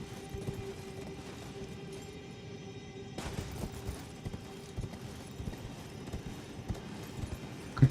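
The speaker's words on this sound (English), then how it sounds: "This horse is not listening to what I'm telling it." The horse Torrent's hooves clip-clop steadily in the Elden Ring video game, a moderately loud rhythmic trot with a brief pause before the steps resume.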